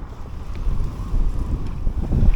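Wind pushes an inflatable kayak under sail on the River Ancholme, a steady low rumbling buffet on the microphone that swells slightly, with faint water splashing beneath.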